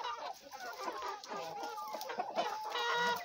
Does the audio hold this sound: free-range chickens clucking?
yes